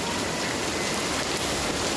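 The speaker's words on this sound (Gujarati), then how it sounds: "અમારે તો વરસાદ આવી ગયો છે" Steady rain falling outdoors during a monsoon downpour, a dense continuous hiss of drops on surfaces, fairly loud and unbroken, with no voices.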